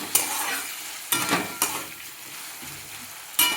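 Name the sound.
potatoes frying in a pan for bhagar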